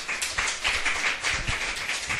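A church congregation claps in a short burst of scattered applause, moderately close and fairly soft, with no voices over it.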